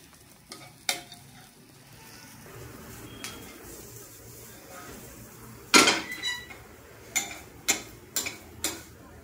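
Onions fry in ghee in a pan, a low sizzle under sharp clinks and scrapes of a spoon stirring against the metal, with several louder knocks near the end.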